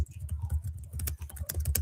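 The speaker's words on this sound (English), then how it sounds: "Hang on, I'm typing in the private chat." Fingers tap out a quick, irregular run of clicks on a computer keyboard, close and fairly clear, with dense bursts of keystrokes and short pauses, without any talking.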